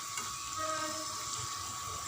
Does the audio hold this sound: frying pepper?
yes